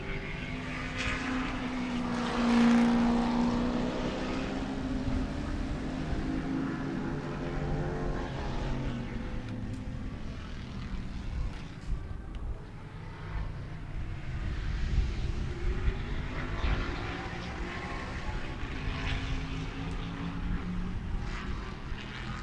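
Big bore race cars at Sebring drone past from a distance, one engine note rising and falling as it passes and then blending into a steady, hollow background roar with no speech.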